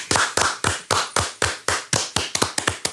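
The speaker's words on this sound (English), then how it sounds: "Can we give a hand clap for Martin Freeman?" A small group claps steadily for actor Martin Freeman on a podcast, sharp close hand claps in an even rhythm that speeds up slightly toward the end, heard alone without talk.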